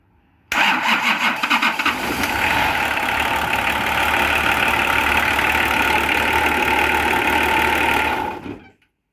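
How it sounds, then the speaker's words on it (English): A Nissan LD28 diesel engine left unused for years cranks briefly and catches at once, settling into a loud, steady, slightly knocking idle that runs for several seconds before cutting off abruptly. "I did not expect that to start as easy as it did"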